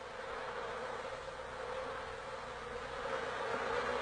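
Honeybees buzz as a dense, steady drone from many insects at once, continuous and unbroken, with no voices over it.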